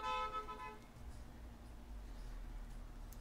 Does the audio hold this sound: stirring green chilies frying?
no